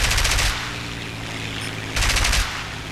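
Machine gun fire in War Thunder comes as two loud rapid bursts separated by a low rumbling engine drone, with no talk.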